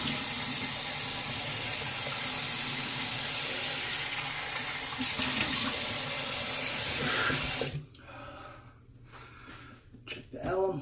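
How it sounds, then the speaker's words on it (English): Tap water runs steadily into a sink while someone rinses off after a straight-razor shave, a loud, continuous splashing rush close by that cuts off, leaving softer drips and handling noises. "Okay, get rinsed off."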